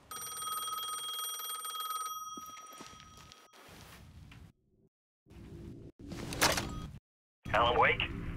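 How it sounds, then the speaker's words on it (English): A payphone rings in the game Alan Wake II, with an old-style bell ring sounding steadily for about two seconds before stopping, followed by footsteps, a door and faint background sounds. "The payphone was ringing again."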